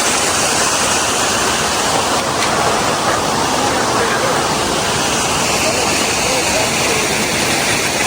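Diverted stream water rushing through a newly dug channel at a landslide site beside a road, a loud, constant roar filling the whole scene.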